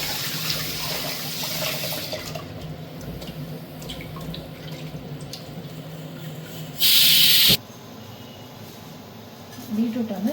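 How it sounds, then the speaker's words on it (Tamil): Beetroot is rinsed under a running kitchen tap, giving a steady splashing water hiss with a brief louder burst of spray near the end, while a person talks over it. "அதுக்காக பீட்ரூட்டை நல்லா வாஷ் பண்ணிக்கோங்க"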